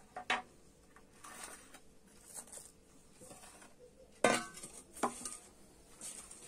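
A large bowl is set down on a hard surface in a quiet kitchen, giving a few separate clinks and knocks, with two sharper clatters standing out against near silence.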